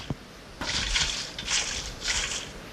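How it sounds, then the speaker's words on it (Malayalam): Water is poured over a small model wall, giving three short splashing pours separated by brief pauses, close and soft, preceded by a faint tap. "ഇങ്ങനെ എല്ലായിടത്തും വെള്ളം ഒഴിക്കാം."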